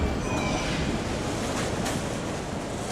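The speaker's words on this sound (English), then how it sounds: "From here we go underground, entering the bright depths of the city, the subway, pride and joy of the capital." A subway train runs through the Yerevan metro in Armenia, a 13-kilometre underground line of 10 stations opened in 1981. It makes a steady, loud, broadband rumble and rush with no break and no voices.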